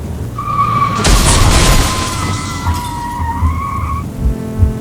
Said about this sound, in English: some fool decides to overtake you on the shoulder and comes barreling into you